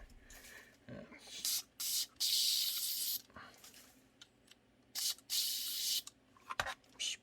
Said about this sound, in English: spraying the side with the oil.